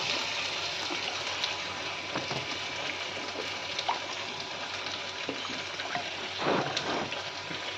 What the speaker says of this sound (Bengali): বাটিটা একটুখানি জল দিয়ে ধুয়ে দিলে আর একটু হবে।